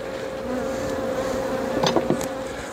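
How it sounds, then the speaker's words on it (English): Honey bees buzz steadily around an open horizontal hive during an inspection, a close continuous hum with individual bees zipping past near the end, no speech. "I'll leave this open like this so those bees can basically fly out and get back inside."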